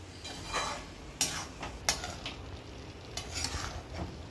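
Brinjal and green chillies fry in a pan with a soft sizzle, while a utensil scrapes and clinks against the pan in several sharp, irregular strokes as the mixture is stirred. No one speaks.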